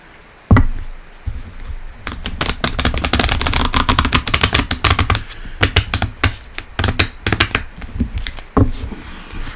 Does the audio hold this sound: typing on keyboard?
yes